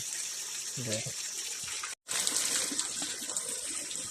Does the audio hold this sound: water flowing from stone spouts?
yes